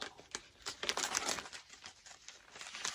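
Plastic bag around a vinyl record crinkles and rustles as it is handled up close, a run of irregular soft crackles and brief louder crunches with no talking.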